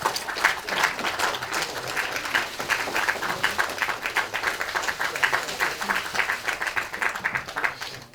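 Sustained applause fills a South Korean Liberty Korea Party lawmakers' assembly, many hands clapping steadily at even loudness for the whole stretch, with a faint voice now and then beneath.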